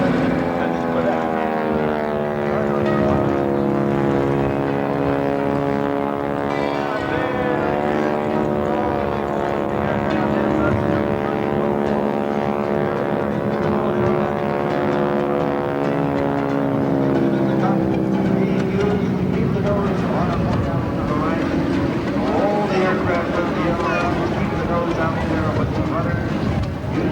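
Display aircraft performing at the Rhode Island Air National Guard air show, a sustained loud engine drone with shifting pitch as it manoeuvres, under continuous commentator talk.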